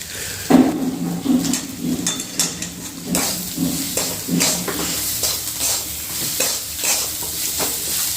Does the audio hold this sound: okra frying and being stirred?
yes